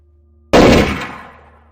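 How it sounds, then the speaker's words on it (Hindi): A single gunshot sound effect in a horror story, fired by a landlord at a ghost: one loud, sudden bang after near silence, followed by a long fading echo. "जमींदार भूत पर गोली चलाता है"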